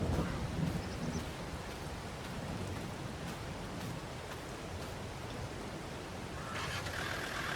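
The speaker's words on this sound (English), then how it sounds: "it's just going to keep on raining" Steady rain pours down over a farm in a farming game, a constant broad hiss with a low thunder rumble rolling beneath it, continuous and fairly quiet with no voices.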